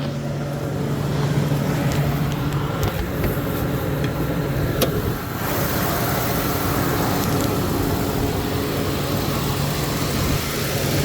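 A truck's 6.2 engine idles steadily, a smooth, even rumble that holds close and moderately loud throughout with no talking.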